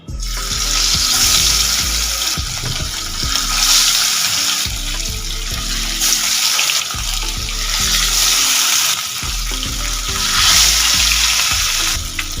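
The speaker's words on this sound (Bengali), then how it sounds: "এবার এর মধ্যে মাছগুলো ভেজে নেব।" Rohu fish pieces frying in hot mustard oil, a loud, continuous, close-up sizzle and crackle that persists throughout with slight surges and no voices.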